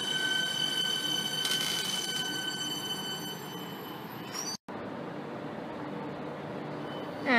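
A Melbourne suburban train on the Seaford line pulls away from a station, a steady rail rumble with a brief high squeal midway, heard at moderate distance without talk.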